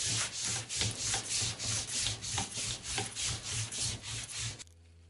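Hand sanding a car part with 240-grit sandpaper makes close, rhythmic back-and-forth rasping strokes, about three per second, before stopping abruptly near the end.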